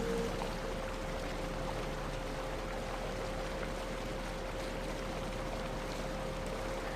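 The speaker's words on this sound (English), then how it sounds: "you're greeted by the sound of its gushing waters" A waterfall gushes in a steady, dense broadband roar of falling water, continuous and fairly loud throughout with no voices.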